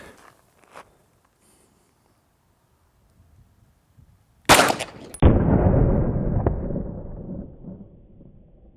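A full-size 9mm Glock pistol fired into ballistic gel: after quiet handling clicks, a sharp loud crack and then a second heavy boom with a long reverberant decay, close and without talk.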